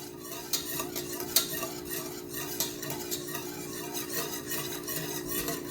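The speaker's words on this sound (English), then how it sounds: "And we just keep stirring it." Milk being stirred in a pot as it bubbles and boils while reducing into sweetened condensed milk: a steady bubbling simmer with soft, irregular scrapes and clinks of the spoon against the pot, close and continuous.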